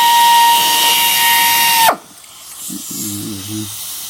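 An Ingersoll Rand air screwdriver runs on a compressor with a loud, steady high-pitched whine and hiss, then spins down abruptly and stops; a low hum continues faintly afterward.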